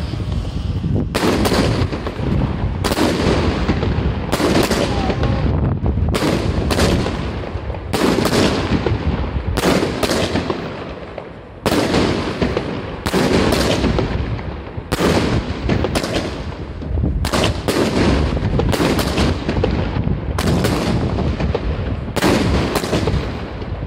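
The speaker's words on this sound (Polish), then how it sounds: "wybuchła gdzieś im na dole rakieta" Rocket blasts in a video game match, a rapid series of sharp, loud booming explosions in irregular bursts, roughly a dozen or more spread evenly across the stretch with short gaps between them.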